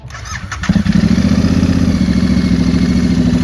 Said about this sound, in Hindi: idol sound